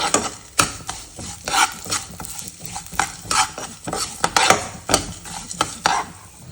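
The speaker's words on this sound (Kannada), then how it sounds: "ಎಲ್ಲ ಐಟಮ್ಸು ಗೈಸ್ ಸ್ವಲ್ಪ ಸ್ಮೆಲ್ ಬರೋ ತನಕ ಹುರ್ಕೋಬೇಕಾಗತ್ತೆ" Spice ingredients for Melukote temple-style puliyogare being dry-roasted in a pan, giving repeated scraping and stirring strokes of a spoon against the metal in an uneven rhythm, close and fairly loud, with no talking.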